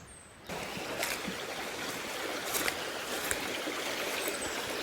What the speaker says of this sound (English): Down there you have a little river.